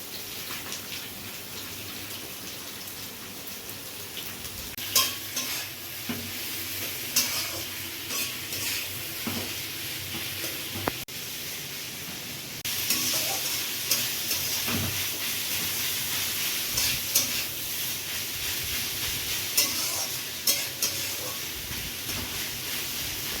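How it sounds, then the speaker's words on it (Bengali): Onions frying with nigella seeds in hot oil in a wok make a steady sizzling hiss with intermittent stirring scrapes, continuous and moderately loud throughout. "কালো জিরে দেওয়ার পর তারপর এবার পেঁয়াজগুলো দেওয়া হচ্ছে এবার পেঁয়াজগুলো প্রথমে ভেজে নেওয়া হবে"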